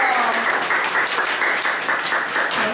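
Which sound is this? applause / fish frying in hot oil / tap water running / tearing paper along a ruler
applause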